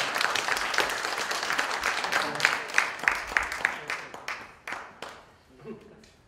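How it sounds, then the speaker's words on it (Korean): An audience at a lecture applauds to welcome a speaker, steady clapping from a gathered crowd that gradually thins into scattered final claps and fades out. "우리 큰 박수로 환영해 주시면 감사하겠습니다."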